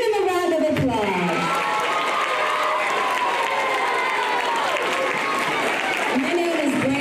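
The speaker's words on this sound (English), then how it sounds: "Give him a round of applause." Audience at a school anti-bullying rally applauds and cheers for a visiting guest, the Illinois Secretary of State; steady clapping and crowd noise fill the whole stretch, with an announcer's voice sweeping over it.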